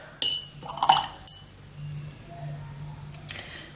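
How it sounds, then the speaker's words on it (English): Watercolor paintbrush dipped and swished in a water jar, giving a few light glassy clinks and soft watery splashes near the start, then quiet faint rinsing. "next I'm going to get some water on my brush"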